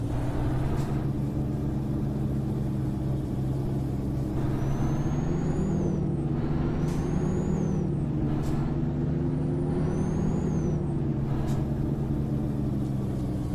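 A MAZ 5432 truck in a driving video game on a Peru mountain road, with a steady low engine drone under several short, sharp air-brake hisses spaced through the stretch.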